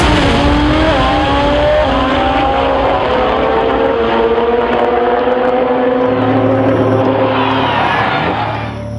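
A loud, sustained engine roar with rising harmonic whine from a drag racing car accelerating hard down the strip, continuous for the whole stretch.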